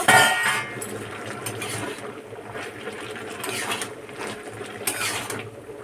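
A metal lid comes off a cooking pot of Bengali vegetable curry with lentil dumplings, a close clinking scrape at the start followed by softer metallic rattles and clinks.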